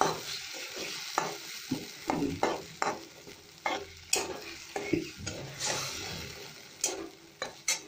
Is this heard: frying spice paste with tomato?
yes